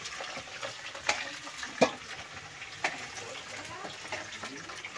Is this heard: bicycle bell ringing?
no